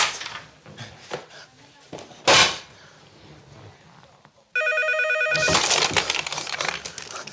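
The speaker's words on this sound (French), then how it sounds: "tu réponds au téléphone. Mais attends que ça sonne." Amid handling noises and shuffling in an office, a telephone starts ringing loudly with a rapid electronic trill that continues to the end, over faint room sounds.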